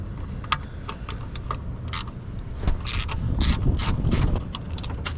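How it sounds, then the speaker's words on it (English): A ratchet wrench loosens the starter bolts on a Nissan 300ZX with repeated clicking strokes, close and fairly loud, with a few bursts of rapid clicking and occasional metallic knocks. "going to loosen these 2 bolts to our starter"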